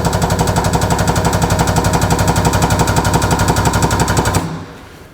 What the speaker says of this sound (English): Pump makes quite a thumping noise.